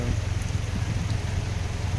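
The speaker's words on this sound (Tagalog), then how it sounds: "pero umuulan pa rin." Rain falling outdoors at night in San Marcelino, Zambales, a steady, even patter under low rumbling background noise.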